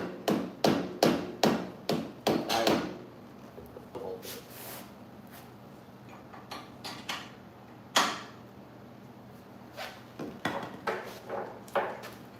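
A Rough Country shock absorber part being hammered down, a quick run of sharp metallic blows followed by scattered single strikes, close and loud, with people talking briefly.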